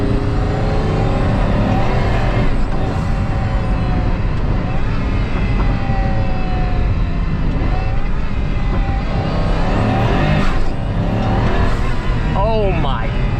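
A Pagani Huayra Roadster hypercar accelerates hard under turbo boost, its engine roaring loudly and continuously from inside the cabin as the pitch climbs through the revs, with a faint squeal near the end.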